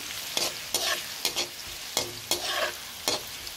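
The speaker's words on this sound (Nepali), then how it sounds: "प्याज अलिकति गोल्डन ब्राउन हुन्जेल अलिकति रातो हुन्जेल चाहिँ म यसलाई मजाले भुट्छु" A spatula scrapes and stirs through sizzling food in a pan, with regular bursts of stirring over a steady frying hiss, close up.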